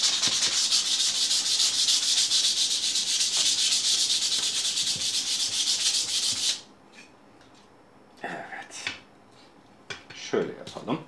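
Sandpaper rubs rhythmically against a rusty steel knife blade in fast, steady strokes, loud and close, then stops, followed by a few scattered scrapes and knocks.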